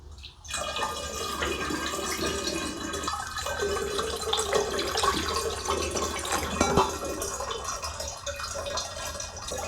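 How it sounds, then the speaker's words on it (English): Sugar water pours steadily into apple juice for homemade cider, a continuous close splashing and gurgling stream that runs almost the whole time at an even level. "And in we go with the sugary water."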